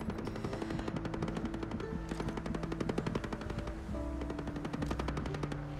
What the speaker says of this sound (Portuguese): Botar um pouco mais para cima e atirar, ó.